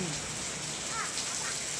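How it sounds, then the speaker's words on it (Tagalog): Steady rain pours in an outdoor spot where people are bathing in the free water, a dense, even hiss filling the air, with faint voices mixed in. "Hallelujah, it's raining."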